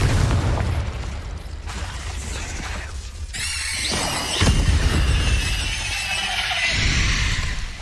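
Confringo fire spells burst in combat in the video game Hogwarts Legacy, heavy booming blasts and crackling debris layered over rumbling game noise and shimmering magical effects, loud and close, with no talking.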